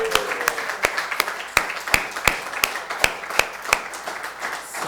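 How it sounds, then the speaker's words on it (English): Scattered applause greets a first-prize winner at a photo festival award function: a handful of sharp, separate claps, fairly close and spaced unevenly, over a quiet hall murmur. "Request Mr. Bipin Christian to come up on stage amidst a round of applause"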